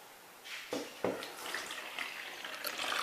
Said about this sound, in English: We're going to try and pour it through this net into our other bowl.